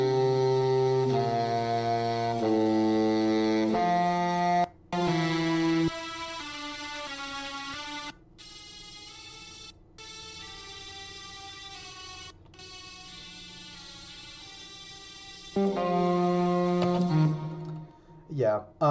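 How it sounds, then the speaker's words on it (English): A high-pass filtered super saw synth lead plays a bright, buzzy melodic line of sustained notes, cutting out abruptly several times before a final louder phrase that fades away. "that's just a typical like high pass super saw kind of lead"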